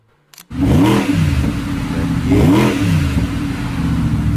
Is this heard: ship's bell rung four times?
no